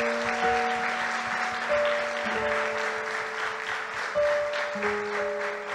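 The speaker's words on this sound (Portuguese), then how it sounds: "Você pode aplaudir a Jesus." A church congregation applauds steadily for several seconds, dense clapping of many hands under sustained organ or keyboard chords.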